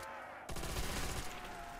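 Machine gun fire in a Call of Duty zombies custom map, a dense rapid stream of shots starting abruptly after a brief quieter moment and continuing steadily to the end.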